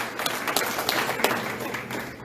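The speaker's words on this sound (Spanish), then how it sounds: "¿Cuánto le dan un aplauso al Señor?" A church congregation claps together during a Spanish-language service, a busy patter of many hands with sharper bursts, steady and moderately loud throughout.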